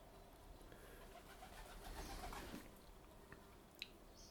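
A pigeon coos softly in the distance against quiet room noise, with a faint click near the end.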